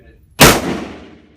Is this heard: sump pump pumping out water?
no